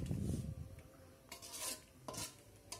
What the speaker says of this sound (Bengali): এখন আবারও নেড়ে চেড়ে দিতে হবে। এই মশলাটা যত কষানো হবে মাংসের স্বাদ তত ভালো হবে।